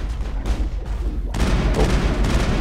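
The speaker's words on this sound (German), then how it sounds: "Die schießen." Gunfire in the Mass Effect video game comes as loud, dense bursts and booming blasts, with a quieter stretch before a heavy, sustained barrage of rapid shots.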